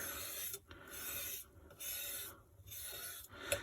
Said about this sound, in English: If your ink is starting to dry, the palette knife is very good to scrape it back together.